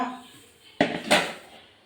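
Knife slicing a vegetable into rounds on a board in a home kitchen, two sharp close cuts with clatter, no talk.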